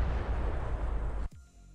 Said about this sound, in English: So instead, he decided to blow it up with dynamite.